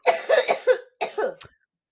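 A series of harsh coughs close up, several quick bursts in two clusters separated by a brief pause, then silence.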